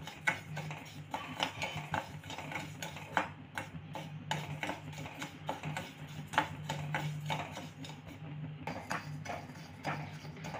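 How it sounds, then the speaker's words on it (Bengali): Sugar melting in a pan for homemade kulfi is stirred without water, giving soft repeated scraping and ticking of a spoon against the pan, steady and fairly quiet. "এইভাবে অনবরত কিন্তু নাড়তে হবে, নাহলে তলাতে লেগে যাবে"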